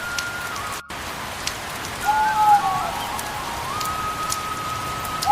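Heavy rain pours steadily and evenly, a dense hiss of drops falling on surfaces all around, with no voices.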